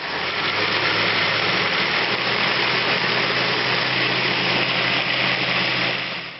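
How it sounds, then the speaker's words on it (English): A blender runs steadily at high speed, blending cooked red curry masala paste for about six seconds with no talking, its motor whirring loudly and evenly throughout before cutting off at the end. "And then we're going to blend it."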